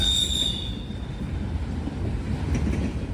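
A freight train rolls past with steady rumbling and wheel squeal, loud and continuous, a high metallic screech fading early on.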